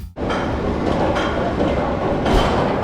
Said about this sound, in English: Going up the hill, dude, the nice aero anti-rollback sound,